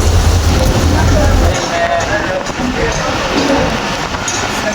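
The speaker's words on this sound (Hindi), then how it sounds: "कोयले वाली गड्डी आ गई है स्टेशन पे" A coal train pulls into Sahiwal railway station in stormy rain, a dense, loud rumble of rolling wagons and wind-driven noise with a low mechanical drone at the start that then fades.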